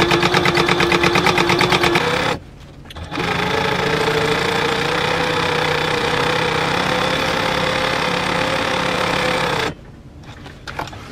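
A sewing machine top-stitches two fabric layers together, whirring loudly in steady rapid bursts with a brief pause between runs, close and continuous, with no talking.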